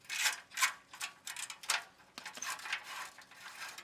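A ratchet clicking rapidly in bursts as a penetrant-soaked, rusty exhaust bolt is backed off a 2003 Porsche 996 Turbo, close and crisp, with short pauses between strokes.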